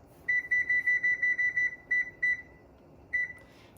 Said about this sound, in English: And then I'm gonna turn my timer on for 10 minutes